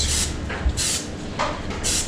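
Pam cooking spray misted onto chicken lollipops on a rack in several short hissing bursts, close and fairly loud, with brief pauses between them.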